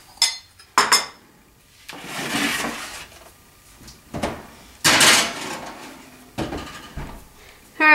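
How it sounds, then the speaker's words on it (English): A tray of apple cream cheese danishes going into a kitchen oven: metallic clanks of the pan and the oven door, then a muffled rumble and more clatter and knocks between quiet gaps. "I'll get this into the oven."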